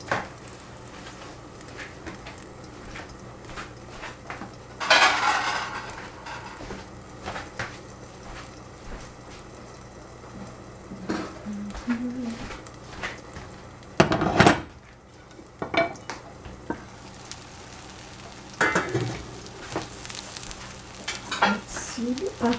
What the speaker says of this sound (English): So this is a spinach omelette, a huge spinach omelette. I will put into a pan.